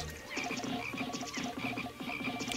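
Frogs in the Pikmin video game croak in a steady, repeating rhythm, a dense run of low throaty calls with no talking over them.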